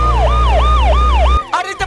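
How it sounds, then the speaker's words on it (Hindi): A loud police siren wails in repeated rising-and-falling sweeps close by, with engine rumble underneath, then breaks into a brief clattering burst. "अरे तो पुलिस के सायरन है रे"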